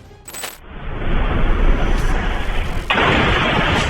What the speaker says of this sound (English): it caused an unexpected explosion.